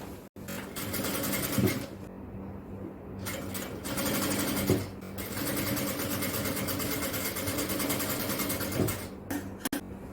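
A sewing machine runs steadily while stitching a sleeve onto an XL jalabiya, a continuous mechanical whir with brief pauses near the start and end.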